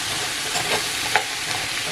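A spoon scrapes the bottom of a hot pot where oxtail was browned, loosening the seasoning in a steady, close scratchy rasp over a constant sizzle, with one sharper scrape partway through.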